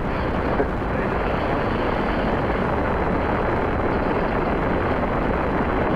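Saturn V launch in Spaceflight Simulator: a loud, dense, continuous rocket-engine roar at liftoff, unbroken and steady throughout.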